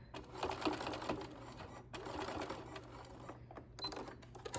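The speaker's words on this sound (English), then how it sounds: "So I'm gonna back stitch to secure it nicely." Sewing machine back stitching fabric for a handmade zipper pouch, a steady rapid mechanical whirring in close bursts with a brief pause between runs, no talking.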